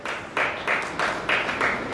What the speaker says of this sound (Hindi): नहीं नहीं अंकल, इस पे ताली मत बजाओ